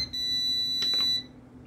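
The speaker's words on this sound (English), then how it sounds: "Uh oh it's my driveway alarm." A driveway alarm sounds a steady high-pitched electronic tone for about a second in a quiet kitchen, faint and alone, with a brief soft clatter partway through.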